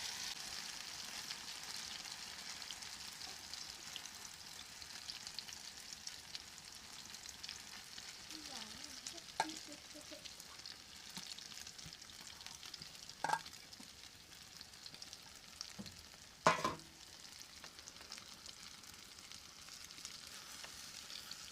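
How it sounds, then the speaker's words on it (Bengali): A spiced mixture of potato, carrot and egg fries in hot oil with a faint, steady sizzle and hiss, broken by a few sharp crackles and stirring clicks. "আলু গাজর সব মশলা দিয়ে মাখানো হয়ে গিয়েছে, তেল গরম হয়ে গিয়েছে, আমি এবার দিয়ে দেব।"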